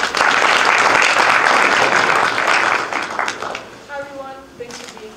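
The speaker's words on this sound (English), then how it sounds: "A round of applause." An audience at a Blackstone LaunchPad college business talk gives steady, full applause that thins out after a few seconds, and then someone starts speaking.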